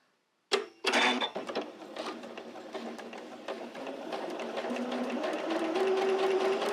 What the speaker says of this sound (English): I'm going to sew 1/4 of an inch past our line.